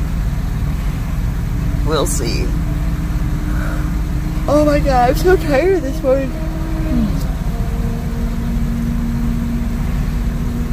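Traffic noise rumbles on a road with engines idling and passing over a steady low drone, while someone talks up close and a tonal wavering call cuts through midway.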